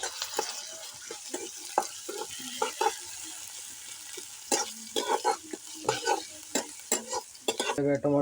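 Tomatoes sizzling in hot oil for Maggi noodles while a spoon stirs and scrapes the pan in repeated close, irregular strokes over a steady frying hiss.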